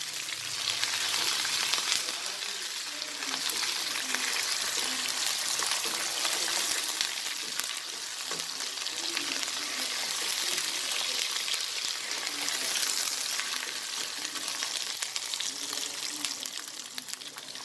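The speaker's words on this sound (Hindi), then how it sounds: "अब इसमें मैं अदरक लहसुन का पेस्ट डाल दूँगी।" Steady, dense sizzling of ghiya and tori frying in a pan with ginger-garlic paste, continuous and fairly loud throughout with faint stirring noises underneath.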